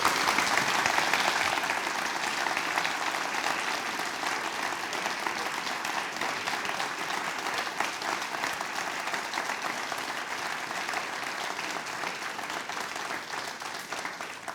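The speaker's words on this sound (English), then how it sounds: "Let's give them a serious round of applause." A lecture audience at a human rights event claps steadily and warmly, a dense sustained applause that fills the whole stretch at moderate loudness and fades slightly toward the end.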